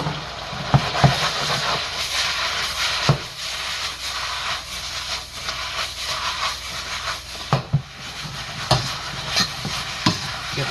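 Onions, red pepper and mushrooms stir-fry in a hot pan for chicken lo mein, a continuous close hiss and sizzle broken by a few sharp clanks of a utensil against the pan.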